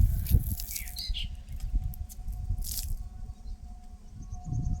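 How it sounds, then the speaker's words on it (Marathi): Birds squawking and chirping while feeding on figs in a fig tree, repeated sharp calls over a steady rustling, crunching background. "या प्रकारे या ठिकाणी पक्षी देखील खात आहेत"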